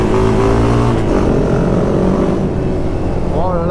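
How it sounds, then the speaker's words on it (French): Supermoto single-cylinder motorcycle engine, loud and close, rising in pitch as the throttle opens, with a steady buzzing drone throughout and a brief whine near the end. "Oh, je mets les gaz."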